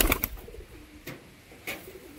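A pigeon coos close by, three short throaty calls spaced about half a second apart, with quiet background between them.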